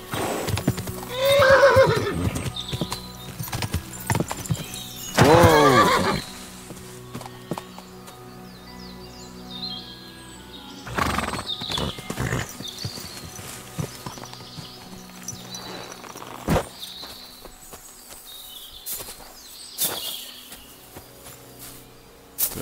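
In Kingdom Come: Deliverance 2, a horse whinnies loudly a couple of times, with hooves clopping and scattered thuds in between, against a faint insect-like background.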